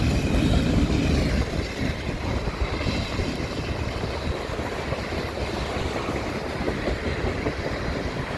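A freight train passes close by at Milepost 75 on the Dundas Subdivision in London, Ontario, with an AC44C6M locomotive in the consist. A loud, continuous rumble and rattle of rolling cars carry faint wheel clicks throughout.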